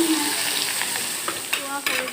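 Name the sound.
onions frying and being stirred in a pan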